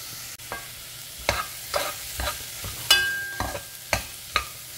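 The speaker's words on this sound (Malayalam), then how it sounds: "സവാള ഇട്ട് നന്നായിട്ട് സവാള വഴറ്റണം." Sliced onions with a pinch of salt are sautéed in a pan for chicken curry, with a soft frying sizzle under about eight scraping spatula strokes spaced a fraction of a second apart.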